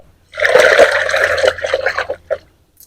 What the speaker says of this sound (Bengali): এই গাছগুলো প্রথমে এক মিনিট জলের ভিতর ভিজিয়ে রাখবো